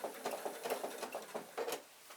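A sewing machine taking slow single stitches while quilting a curve, a handful of soft rhythmic mechanical clunks in quick succession, faint and close.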